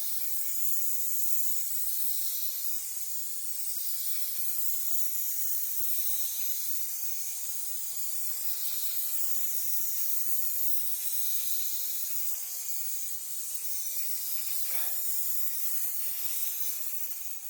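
Steady, faint spray-gun hiss while the roof of a Citroen C4 Grand Picasso is spray painted, continuous and unbroken throughout, with no talk.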